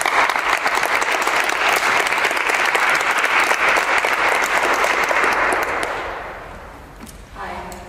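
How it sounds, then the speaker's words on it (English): A lecture-hall audience gives loud, dense applause as a guest speaker on drone warfare is called forward, the clapping sustained for several seconds before tapering off and a few quieter sounds follow. "let's give it a applause"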